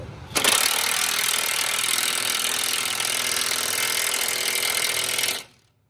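A power grinder grinding down metal in a backwoods garage during work on a Tahoe transfer case, running loud and continuous for about five seconds, then cutting off abruptly.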